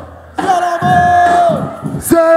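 A crowd of fans shouts and chants loudly at a Cearamor supporters' drum performance, a burst of massed voices rising over a sustained tone, close and energetic.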